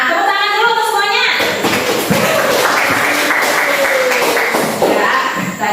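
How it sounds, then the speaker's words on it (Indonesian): A classroom of students claps together in a dense, close burst of applause, with a voice talking over it near the start and end. "Nah, tepuk tangan dulu untuk semuanya."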